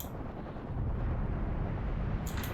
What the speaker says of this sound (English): Oh, it's more artillery.